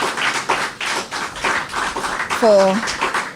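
Book launch audience applauding, a moderate patter of many hands clapping under and around a speaker's voice, with a short spoken word near the end.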